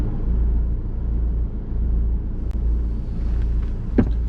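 Steady low car rumble from inside a vehicle crawling in traffic, a continuous droning hum with a few brief faint clicks and knocks near the end, no talking.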